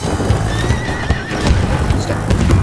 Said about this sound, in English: Oh, that horse just jump around.